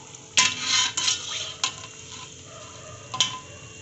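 Dahi gujiya frying in hot oil in a pan, a soft steady sizzle broken by a few sharp clinks and scrapes of a utensil as the pieces are turned, close and moderately loud.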